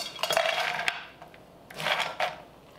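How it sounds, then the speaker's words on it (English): Frozen vegetables tumble into a deep cooking pan in two clattering pours, hard pieces clinking and rattling against the metal, close and fairly loud with quiet gaps between. "I'm gonna add about 4 cups of these frozen veggies."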